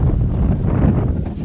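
Strong wind of roughly 20 mph roars steadily across the microphone on a lake while fishing from a boat, a dense, continuous buffeting rumble with no pauses.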